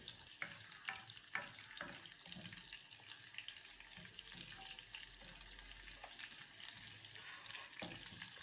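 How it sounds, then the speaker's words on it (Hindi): Ginger, cumin and green chilli fry in hot oil in a pan, giving a quiet continuous sizzle with occasional stirring clicks and taps, faint and close. "पैन में ऑयल गरम करके इसमें पहले अदरक डाल लें, हल्का सा फ्राई करके इसमें सफ़ेद ज़ीरा फिर सब्ज़ मिर्च डालें"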